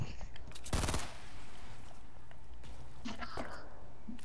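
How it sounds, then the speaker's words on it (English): Video game gunfire, a loud close burst of rapid shots followed by fainter scattered distant shots, with quiet voices murmuring underneath. "Do you hear the shooting?"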